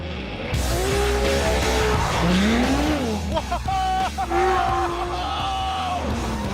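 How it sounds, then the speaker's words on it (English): A Ferrari F12 TDF with a 770 hp V12 is driven hard, its engine note loud and sweeping up and down through the gears while the tyres squeal in bursts, close and continuous throughout. "Welcome to the Ferrari F12 TDF. 770 brake horsepower of brain-melting V12"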